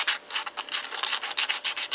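Rhythmic sanding strokes of a file scraping across the trunk edge of a model car, close and steady, with quick back-and-forth rasping bursts and no voices.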